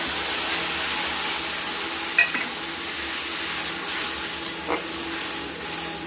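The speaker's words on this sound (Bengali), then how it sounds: "এদিকে আমাদের পেঁয়াজটা লাল লাল করে ভাজা হয়ে গেছে। এর মধ্যে আমরা দিয়ে দেব বেটে রাখা মশলাগুলো।" Ground spice paste frying among deep-browned onions in a pan for a rohu fish curry with potatoes and taro, giving a steady close sizzling hiss with a couple of faint utensil clinks and no talking.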